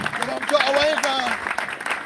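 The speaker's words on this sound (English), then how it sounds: "Let's clap for him." An audience at a live event claps for a dignitary, with a voice speaking prominently over the brief burst of applause.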